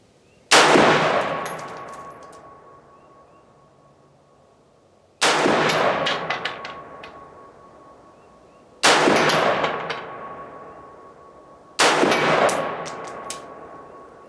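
Four loud, close gunshots from a budget-built 223 Wylde AR-style rifle, spaced a few seconds apart, each a sharp crack followed by a ringing decay at an outdoor range.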